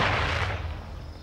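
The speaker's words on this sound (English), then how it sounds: "My mortar strike is scaring them." A mortar strike in Call of Duty Modern Warfare 2 hardcore team deathmatch lands with a heavy, close boom that rumbles and fades over about a second.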